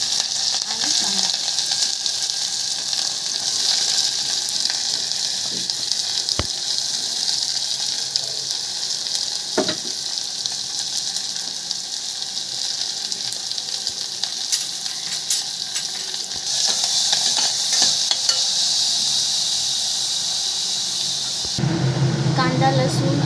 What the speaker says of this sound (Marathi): कांदा लसूण आपला जो कांदा लसूण मसाला चांगला परतलेला आहे